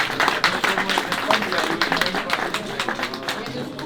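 Audience applause at an outdoor gathering for a Paris–Rouen velocipede ride: steady, moderately loud clapping from a crowd, continuing throughout with slightly uneven rhythm.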